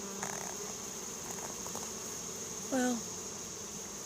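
Honey bees swarming onto a pill-bottle scented swarm lure outdoors give a faint, steady buzzing drone, with a few nearby bees buzzing past briefly and someone speaking a word.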